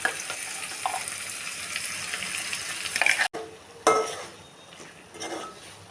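A tomato and onion paste for capsicum curry is stirred into a pan already holding ginger-garlic paste. It sizzles with a loud, dense hiss that drops abruptly, then carries on more softly as scraping stirs continue.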